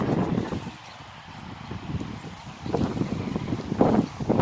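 Blustery wind sweeps through an outdoor vegetable garden of salad greens in cool, changeable weather, a steady rushing buffeting that swells louder toward the end, with no voices.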